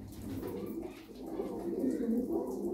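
Tumbler pigeons coo softly and steadily in a low, murmuring run, faint and close, with a brief bit of background voice.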